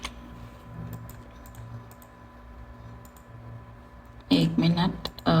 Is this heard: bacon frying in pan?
no